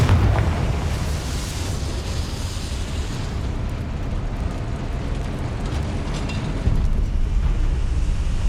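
A Confringo fire spell in the game Hogwarts Legacy bursts into a loud, sustained rumbling blast, a broad roaring boom that fills the scene and holds steady with a slight swell near the end.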